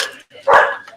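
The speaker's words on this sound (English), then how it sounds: "I got the dog stirred up." A dog gives two or three short, sharp barks up close, the middle one loudest, in a quick burst with brief gaps between.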